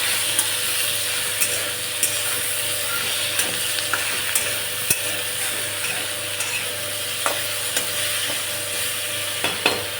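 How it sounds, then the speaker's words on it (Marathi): Okra (bhindi), with peas, fries in a pan with a steady, close sizzle, while a utensil scrapes and taps against the pan now and then as it is stirred. No one speaks. "चला आपली भेंडी फ्राय होते."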